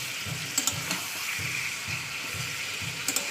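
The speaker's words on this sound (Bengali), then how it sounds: "মাংস এরকম সুন্দর করে তেলের উপর ভাজা করে রান্না করলে" Chicken pieces frying in hot oil in a pan, a soft continuous sizzle with faint rhythmic stirring scrapes and occasional small pops.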